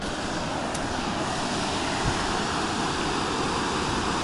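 A forest river swollen with spring snowmelt rushes in a steady, broad roar, close and constant, with no voices.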